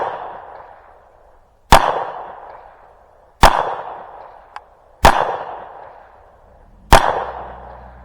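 Four sharp gunshots at outdoor target shooting practice, spaced about two seconds apart, each a loud close crack followed by a long decaying echo across the range.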